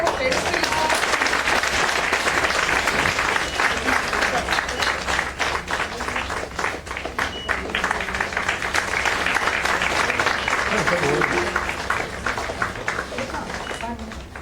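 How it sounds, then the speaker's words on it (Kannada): Big round of applause from an audience at a Dignity Foundation event, dense and steady clapping filling the room for about fourteen seconds, fading slightly at the end, with voices mixed in. "ದೊಡ್ಡ ಚಪ್ಪಾಳೆ."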